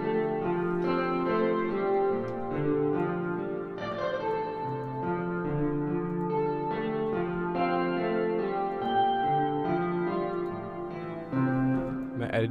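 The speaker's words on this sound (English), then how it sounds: "Just to give it a little reverb." A guitar phrase played through Valhalla Reverb and a doubler, its notes trailing into a soft reverberant wash with doubled, chorused tone throughout.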